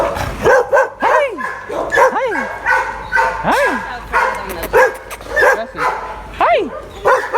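Several puppies bark and yip in short, high bursts with rising and falling pitch, close by, some whimpering between barks, while people talk over them.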